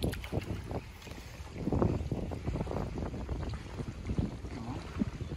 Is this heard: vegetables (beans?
no